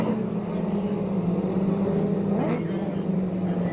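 Formula 500 speedway race cars lapping a dirt circuit during a heat race, a steady droning engine roar held throughout with a brief rising whine as a car passes nearby, announcer talk running over it.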